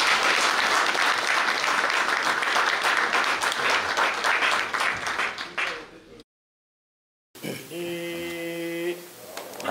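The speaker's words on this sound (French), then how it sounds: "Une acclamation pour le Seigneur." Worship congregation applauding and cheering in acclaim of the Lord, a dense, loud burst of clapping lasting about six seconds before cutting off abruptly, followed after a silent gap by a sustained sung or chanted voice.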